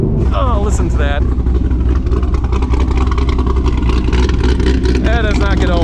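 Chevrolet Corvette C6 Z06 V8 engine revving loudly from inside the car, rising and falling pitch sweeps over a deep continuous rumble, with people talking over it.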